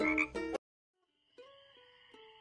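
Frog croaks in Junktopia, a short burst of gurgling croaks, then silence, then a steady tonal croak pulsing three times, close and clear with no talk.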